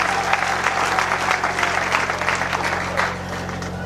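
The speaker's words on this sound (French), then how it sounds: "Je demande à l'Assemblée d'applaudir pour tous les étudiants." An assembly at an academic graduation ceremony applauds the students with broad, steady clapping that thins slightly toward the end, over a low constant hum.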